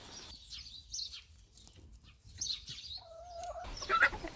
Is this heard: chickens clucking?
yes